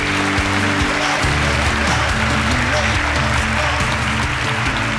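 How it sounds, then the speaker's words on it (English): A dense, steady wash of audience applause for the winners of an African STEM challenge competition runs loud and continuous for the whole stretch, with voices and a low tonal background underneath. "Please, can we give them a round of applause?"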